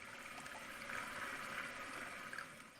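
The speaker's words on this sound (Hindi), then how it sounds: "अरे यहाँ से भी पानी बह रहा है।" Water runs from a wash basin indoors, a faint, steady trickle with a soft gurgle that continues evenly throughout, quiet and without voices.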